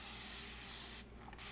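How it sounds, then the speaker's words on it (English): Water sprayed from a spray bottle onto a silkscreen, a loud continuous hiss lasting about a second, breaking off briefly and then resuming, close by. "I like to spray that area real good with water."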